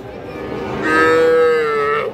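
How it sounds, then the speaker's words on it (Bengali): A young bull calf at a cattle market gives one loud, close moo that rises and holds for about a second over steady crowd murmur. "এটা একটা ষাঁড় বাছুর"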